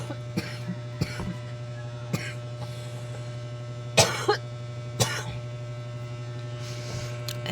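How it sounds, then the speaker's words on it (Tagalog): Several short, sharp coughs scattered across the clip, a couple louder bursts near the middle, over a steady low electrical hum. "hindi ko mapigilang umubo"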